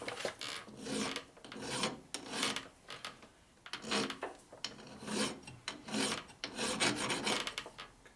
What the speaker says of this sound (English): I'm just going to do that with a regular file